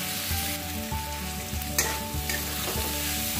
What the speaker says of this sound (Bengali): পনিরটা দিয়ে দিয়েছি, আবার এবার মিনিট খানেক ভেজে নিতে হবে।